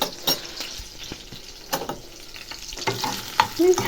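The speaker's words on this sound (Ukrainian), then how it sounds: "Це я зараз витоплю оцей жир і тут буду смажити цибулю з морквою." Rendered chicken fat sizzles and crackles steadily in a pan up close, with occasional stirring scrapes and pops.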